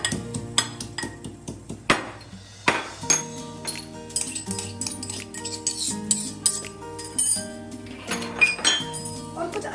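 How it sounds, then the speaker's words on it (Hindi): Ginger being pounded to crush it for masala chai: a steady run of repeated metallic knocks and clinks, close and fairly loud, with tonal background sound underneath. "मेरे पास थोड़ा ये जिंजर है, ये भी हम डाल सकते हैं इसमें. इसको कूट कर डालते हैं"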